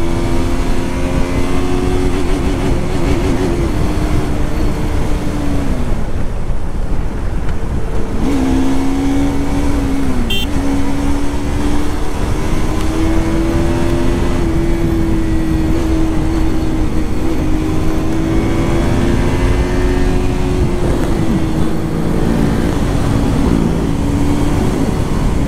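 Motorcycle engines, a Yamaha R15 with a KTM Duke 250 and KTM RC 200, drone loudly and steadily during a street race, with the pitch rising and falling as the bikes shift gears and rev hard.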